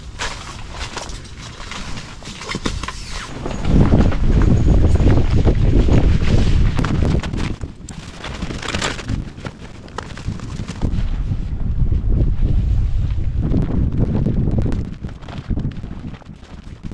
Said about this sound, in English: That wind was a bear.